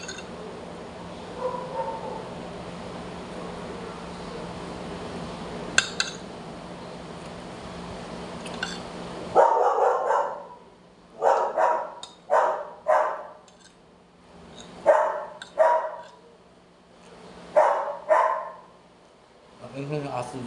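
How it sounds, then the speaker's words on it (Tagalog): A dog next door barks in a series of loud, spaced barks, some doubled, coming from a short distance after a stretch of low room hum. "Ang ingay ng aso dun sa kabila."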